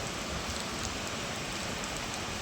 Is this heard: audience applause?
no